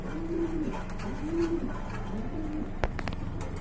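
Pigeons coo steadily at a Bangladeshi pigeon market selling fancy racer and local breeds, with repeated low rolling coos nearby and busy crowd noise behind them.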